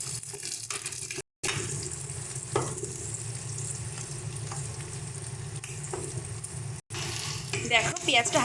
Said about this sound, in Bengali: দেখো, পেঁয়াজটা হালকা লাল লাল করে ভাজা হয়ে গেছে।